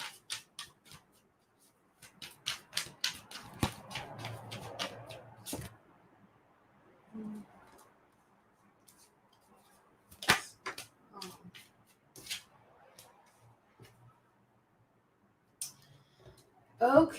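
Tarot cards being shuffled by hand, with bursts of quick riffling clicks and slaps separated by pauses, close and fairly quiet, with occasional faint speech.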